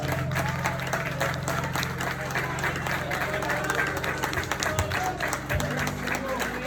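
A church congregation applauding during a worship service, continuous clapping from many hands over a low, sustained hum, with voices audible in the mix.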